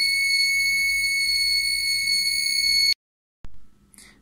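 The buzzer of a 555 timer light fence circuit sounds a loud, steady, piercing electronic tone for about three seconds, then cuts off abruptly, followed by a short click and faint noise.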